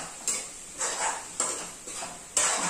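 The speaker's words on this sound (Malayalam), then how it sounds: "ആ സമയം കൊണ്ട് നമുക്ക് ഈ തോരനും കൂടെ ഒന്ന് ഇളക്കി കൊടുക്കാം" Thoran, stir-fried vegetables, is stirred in a pan with about five evenly spaced scraping strokes, each a short rasp against the metal, close and fairly loud with no one speaking.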